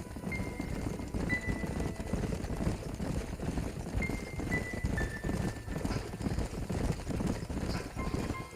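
Several horses clip-clop steadily in the Red Dead Redemption video game, a continuous rhythmic hoofbeat at moderate volume with faint tonal game sounds above and no talking.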